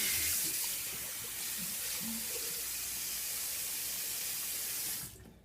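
A bathroom tap runs steadily into a sink as someone rinses off after shaving, a close hiss of flowing water with faint splashes that cuts off abruptly near the end.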